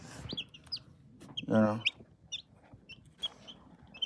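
Newly hatched chicks in a homemade incubator peep in short high chirps scattered through the moment, with a brief louder cluck-like call in the middle and someone speaking quietly.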